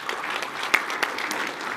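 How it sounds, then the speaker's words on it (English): An audience at a professional development forum gives a brief round of applause, a dense patter of many hands with a couple of sharper claps standing out, fairly close and without talk. "give a nice round of applause to Dr."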